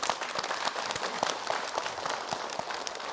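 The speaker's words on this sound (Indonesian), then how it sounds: "Tepuk tangan boleh ibu-ibu" Audience of women applauding on a talk show set, a steady dense wash of clapping with a few sharper claps standing out, sustained throughout without pause.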